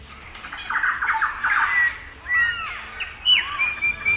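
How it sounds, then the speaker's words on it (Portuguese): About 30 species of birds chirping, squawking and whistling in a lush forest-like aviary in São Paulo, a mix of overlapping calls at moderate distance. "aqui é possível ouvir 30 espécies de diferentes pássaros"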